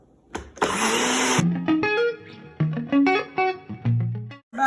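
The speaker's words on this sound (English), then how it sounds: "we're just gonna put it all in the blender. Gonna blend it up." A kitchen blender whirs through a nutritional yeast sauce for a kale salad, starting with a loud, harsh burst and then shifting into a series of changing whining pitches with short pauses between them.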